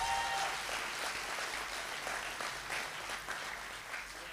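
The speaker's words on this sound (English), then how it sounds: "Can we give them a round of applause?" A church congregation applauds during a birthday celebration and leadership handover service, steady clapping held at a moderate, even level throughout with no voices standing out.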